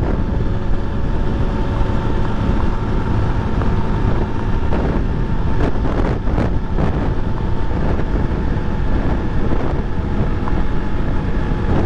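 A 2013 Honda XRE 300 motorcycle cruises at about 100 km/h on a highway, its engine drone buried under loud, constant wind roar at the microphone, with no talking.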